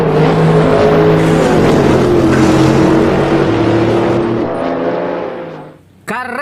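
A toy race car gives a loud, close engine-revving sound that rises and falls in pitch, then fades before a brief new burst at the end.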